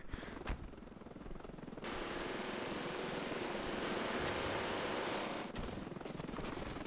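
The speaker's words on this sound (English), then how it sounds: "Hey, the blues still have a helicopter in the air." Helicopter rotor chatter thumps steadily through a chaotic battle in the video game Ravenfield, mixed with rapid machine-gun bursts and a sudden hiss of rushing noise; no speech.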